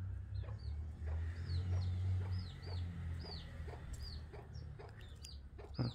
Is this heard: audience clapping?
no